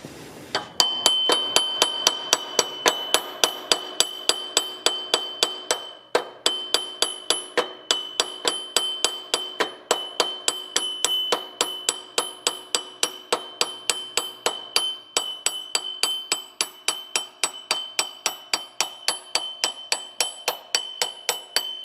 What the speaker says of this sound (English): So just need to hammer that off just because it's pressed on there pretty well